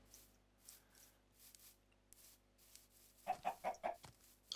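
Blocky Minecraft chickens cluck in short bursts, faint and sparse at first, then a louder cluster of clucks near the end, with no talk.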